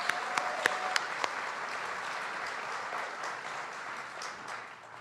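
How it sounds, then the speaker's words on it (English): Steady audience applause fills the room, a few sharp individual claps standing out early before settling into an even, moderately loud wash of clapping that continues to the end. "Let's give her another round of applause."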